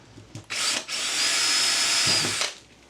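Power drill boring through a kitchen worktop, a short trigger pulse followed by about two seconds of steady, loud, high-pitched whirring as the bit cuts through, close up and with no talk.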